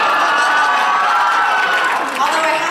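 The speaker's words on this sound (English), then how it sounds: "we should clap for that" A convention audience at a Broadway panel claps and cheers, steady loud applause mixed with shouts and whoops that swell near the end.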